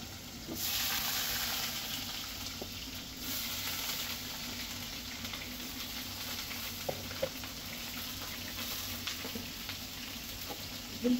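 Potato and eggplant curry with bay leaf and cumin frying in a pan makes a continuous close sizzle and crackle, with occasional stirring taps and a brief louder burst early on.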